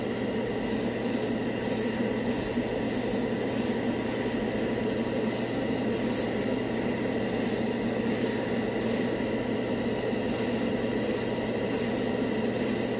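Rapid, rhythmic hissing bursts of Alclad metallic spray paint onto a spoon repeat close by, with brief pauses between runs of quick pulses.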